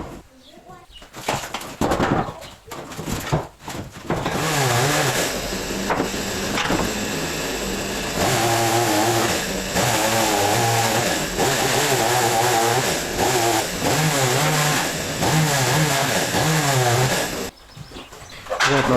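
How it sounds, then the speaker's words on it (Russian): A petrol chainsaw cuts through wooden floorboards in an abandoned village house, its engine roaring steadily and close for most of the stretch after a few uneven starts. "Здесь бензопилой получается очень быстро."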